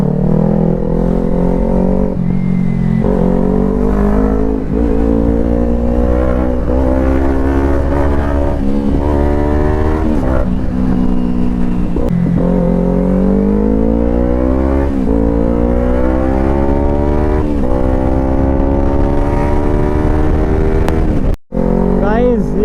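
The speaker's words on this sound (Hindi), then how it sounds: "देख लो गाइस मैं कैसे भगा रहा हूँ अब बाइक को" A motorcycle is ridden fast on a road near Chandigarh. The engine is loud and close, climbing in pitch through repeated revs and gear changes, with steady wind rush throughout.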